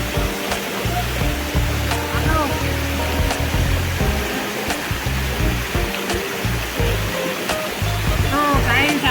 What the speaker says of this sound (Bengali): দেখো বন্ধুরা স্রোত খাচ্ছে, স্রোতের সেই মজা।